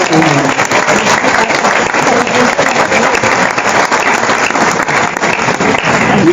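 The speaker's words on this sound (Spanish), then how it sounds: "Hacer un aplauso al Espíritu de Dios que nos santifica en cada momento." A charismatic church congregation applauds the Spirit of God, a loud, sustained roar of many hands clapping with some faint voices mixed in, continuing evenly for several seconds.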